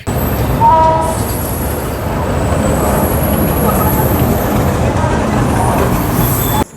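A passenger train pulling into platform 2 at Malda Town station, a loud continuous rumble of wheels and cars with squealing metallic tones and a brief horn-like note early on, heard up close.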